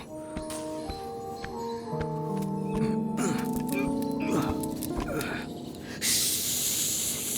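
A voice imitates a snake's hiss in a Hindi-dubbed Jungle Book cartoon, with a long breathy hiss bursting in near the end over a busy musical background.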